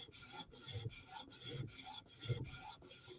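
The tip of a Chris Reeve Umnumzaan tanto knife is sharpened and polished to a mirror edge in close, rhythmic rasping strokes, about four or five even passes with short pauses between them.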